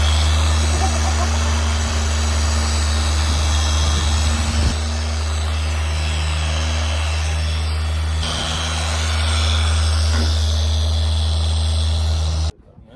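Dual action polisher running at top speed on the paint of a Mercedes SL350 R230, a loud, steady droning hum that holds for about twelve seconds, then cuts off abruptly.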